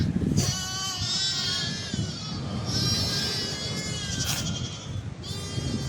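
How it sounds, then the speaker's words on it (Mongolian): A young goat being carried bleats again and again in drawn-out, quavering cries, with a steady rush of wind behind the calls. "Одоо ишиг барьж явна"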